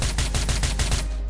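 Rapid bursts of gunfire in a multiplayer video game, a loud fusillade of repeated shots in quick rhythm lasting about a second.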